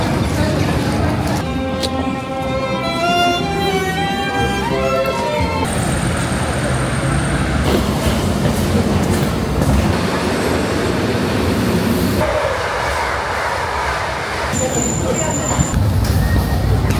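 A passenger train running on the rail line between Sopot and Gdansk in Poland gives a steady, continuous rumble with clattering wheels and a few high squeals, while people talk and sing in the carriage throughout.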